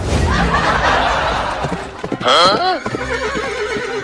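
A horse neighs loudly and shrilly close by, with clip-clop hooves and human chatter and laughter around it.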